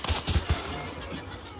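Gunfire in a video game: a few quick, close bursts of shots in the first half-second, then a lower, steadier battle rumble with nothing else standing out.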